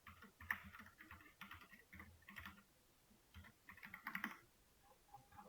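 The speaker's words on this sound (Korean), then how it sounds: "여기도 타이핑을 할게요." Someone types on a computer keyboard nearby in quick bursts of soft key clicks separated by short pauses, with no speech.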